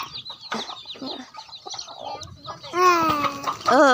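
Chickens on a small rural farm in Laos cluck and chatter in short, overlapping bursts, with rising warbling calls growing louder near the end, close by and without speech.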